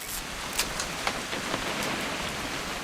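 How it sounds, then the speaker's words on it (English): Steady rain falling in the video game What Remains of Edith Finch, a continuous hiss of drops with a few brief louder patters, no talk. "It's gonna rain the whole weekend, isn't it?"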